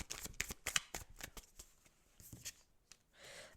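Tarot cards are handled and shuffled close by while an extra card is drawn, producing a flurry of crisp riffling snaps and slaps followed by softer sliding, with no talking.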